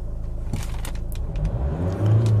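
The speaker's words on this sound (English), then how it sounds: "RPM goes up higher." A 2018 Hyundai Santa Fe engine, heard up close during an inspection, hums steadily and then rises in pitch as it revs higher, with light clicks over the top.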